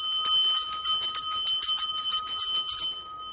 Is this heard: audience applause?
no